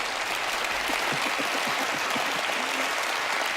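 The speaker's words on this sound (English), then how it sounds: "This applause is for you." A live studio audience at a magic show claps steadily, a dense sustained wash of applause with no break.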